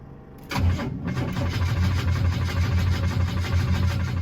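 A 1987 Buick Grand National turbo engine cranks briefly and catches, then settles into a steady, loud, rumbling idle close by.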